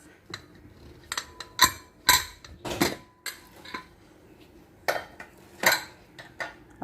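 A tiffin box of tomato rice is opened with a run of sharp metallic clinks and clatters, scattered irregularly and close by, with quiet pauses between them.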